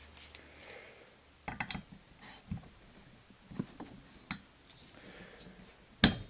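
A torque wrench ticks and clicks in a few sharp, separate snaps while tightening bolts on a Baja 5SC RC engine. The clicks are close and fairly quiet, and the last one is the loudest.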